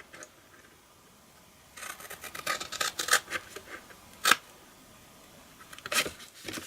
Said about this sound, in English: you want to cut straight down